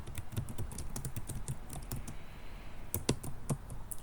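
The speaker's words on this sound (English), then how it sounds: "Type out a shorthand version of the complaint" Someone types on a computer keyboard: soft, uneven clicks of keys in short runs, close and fairly quiet over a low background hum, with no talk.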